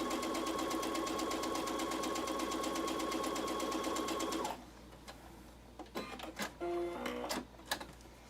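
An electronic sewing machine runs steadily for about four and a half seconds, stitching fabric for a Dresden Plate quilt block with a fast even rhythm, then stops and leaves faint clicks and handling noises.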